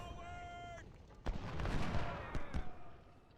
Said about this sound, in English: It's kind of a waste of artillery,